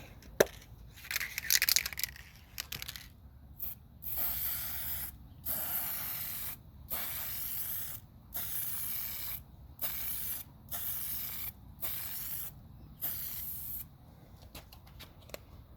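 An aerosol can hisses in repeated short bursts as a very thin coat is sprayed onto a restored car headlight, each spray separated by brief pauses, loud and close with no speech.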